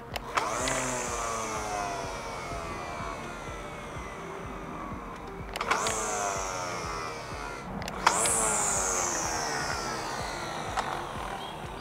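A Parkside electric string trimmer from Lidl whines at high speed while its line extends, rising and falling in three distinct spin-ups with brief sharp knocks as the line advances, heard close with no talk.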